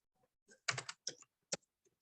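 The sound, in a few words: typing a paragraph on a computer keyboard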